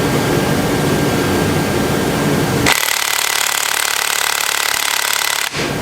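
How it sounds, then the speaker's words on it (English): Harbor Freight 1/2-inch air impact wrench with a 15mm 12-point socket hammering loudly and continuously on a head stud of a 24V Cummins engine, close up, with a sharp change in tone partway through. "I'm just curious to see if this thing will even break a head stud loose"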